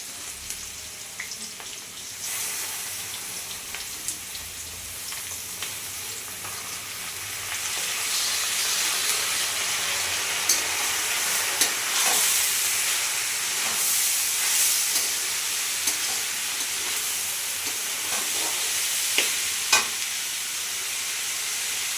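Rice and lentils, about a kilo of rice with half a kilo of lentils, fry in a pan for bhuna khichuri. A loud, steady sizzle builds and fills the whole stretch, with occasional stirring scrapes close by and no talking.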